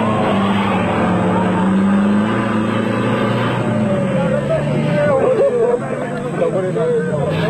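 Nissan Hardbody double cab pickup racing in a desert off-road event, a steady loud engine drone with rising pitch sweeps throughout, heavy and continuous, mixed with a commentator's voice.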